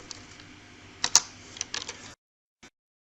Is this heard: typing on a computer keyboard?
yes